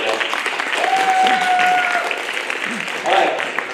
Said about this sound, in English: A round of applause for our contestants and all the courage they displayed today.